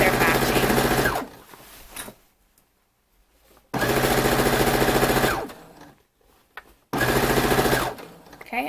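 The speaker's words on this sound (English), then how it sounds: "sew a 3/4 inch seam" A sewing machine runs a 3/4 inch seam joining a bodice edge to a skirt or romper bottom, in two long steady bursts and a third shorter one, each a loud, even mechanical whir. Quiet pauses fall between the bursts.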